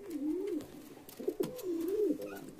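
Pigeons in a loft, including a black Shiraz pigeon, give soft, low rolling coos in two or three repeated phrases, quiet and close, with faint shuffling between calls and no voices.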